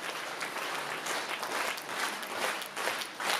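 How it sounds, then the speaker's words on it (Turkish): Audience applause at a jubilee concert: a crowd of hands clapping fairly softly and steadily, with slight swells, heard from a distance in the hall. "Derre alkışlar."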